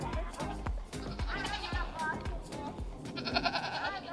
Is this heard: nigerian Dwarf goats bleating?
yes